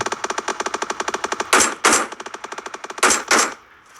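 Rapid automatic gunfire rattles in a fast burst in the video game PUBG, then several louder, heavier shots boom close and loud.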